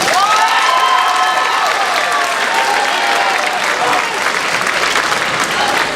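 Audience at a high school band awards night clapping loudly and steadily, a thick wall of hand claps with some cheering and scattered voices, unbroken for the whole stretch.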